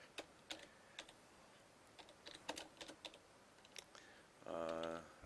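Someone slowly types on a computer keyboard, leaving scattered key clicks with pauses between them. A short burst of louder, steadier mechanical noise follows near the end, and nobody speaks.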